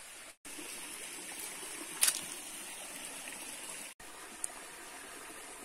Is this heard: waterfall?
yes